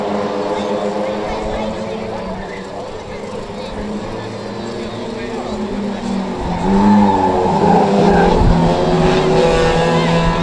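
Pro Stock race cars roar around the Cowdenbeath Racewall oval in a heat race, their engines droning and rising as they pass closer, while a commentator talks continuously over the racing.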